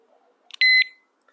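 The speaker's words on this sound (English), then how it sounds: "you hear it beep" A disc brake lock with a shake sensor gives one loud, piercing electronic beep as it arms, held for about a quarter second after a short chirp, then silence.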